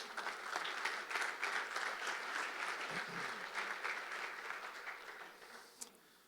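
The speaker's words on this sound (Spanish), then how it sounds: "Un aplauso para estos jóvenes." A church crowd applauds with dense, steady clapping that gradually tapers off, fairly soft and somewhat distant.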